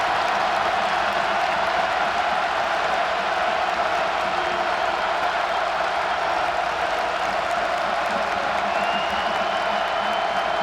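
Crowd noise fills a Rutgers basketball arena during a home game against Wisconsin, a steady, dense roar of cheering fans that holds at an even level throughout without letting up.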